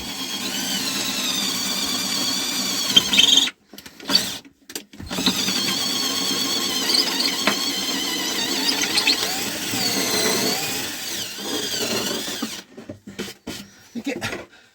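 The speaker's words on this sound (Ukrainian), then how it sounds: "навіть з димом іде свердло по дереву." A drill bit boring into wood up close while building a cabinet, smoking as it cuts, a sustained whining grind broken by a few short stops and restarts.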